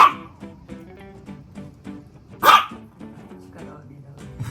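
Toy poodle barking at a turtle, giving one sharp, close bark over quieter background sounds and faint yips.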